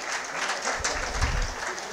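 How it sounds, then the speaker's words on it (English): A steady burst of audience applause at an annual general meeting, dense and even clapping filling the hall from start to finish. "I think we deserve another round of applause for the year that has gone by."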